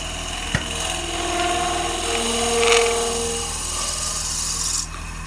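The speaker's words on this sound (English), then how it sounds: "I'm going to try to turn the lathe speed down and see if I can beat those harmonics." Butternut spinning on a wood lathe slowed to a reduced speed gives a steady, continuous rasping rub with a faint mechanical hum and slight vibration, close and even for several seconds with no talking.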